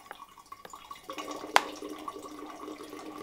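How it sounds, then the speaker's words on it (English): Filtered water from a Sawyer Squeeze water filter being squeezed out of the bag, trickling and dripping nearby in a thin stream with scattered drips and one sharper splash. "And there we go, we are filtering water."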